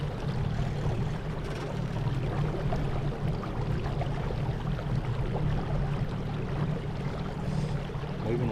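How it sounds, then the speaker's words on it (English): Small fishing boat moving along a river current on an electric trolling motor at low speed, a steady dull hum with water rushing and gurgling along the hull, constant and close. "I think I got the trolling motor set on like speed 3."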